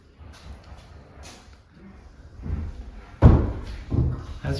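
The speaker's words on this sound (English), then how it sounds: "Oh, shut the door." A door in a newly built house with stonework is pushed shut, landing as one heavy, close thud after a stretch of soft shuffling and handling noise, with a few smaller knocks following.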